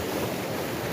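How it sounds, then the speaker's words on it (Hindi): Fast-flowing deep river water in a mountain village in Thalay Broq, Gilgit Baltistan, a steady broadband rush with no breaks, close and fairly loud throughout. "मैं आपको जूम करके क्लियर दिखा भी देता हूँ पानी का बहाव"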